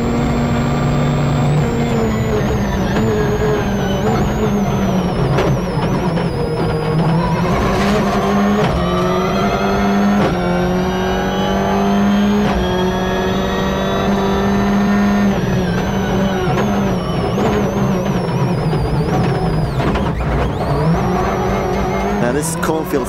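Ford Focus WRC rally car at speed in sixth gear on a narrow, dry country road at the Jim Clark Rally, heard onboard as a loud, continuous high engine drone with small pitch shifts throughout.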